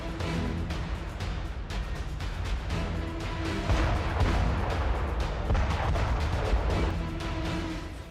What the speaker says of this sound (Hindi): इससे गोले को इलेक्ट्रोमैग्नेटिक ताकत के जरिए फायर किया जाता है